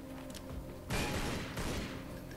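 Gunfire in the video game Lara Croft Tomb Raider Legend: a sudden loud burst of rapid shots that rings on for about a second, then a second burst, with game background sound around it.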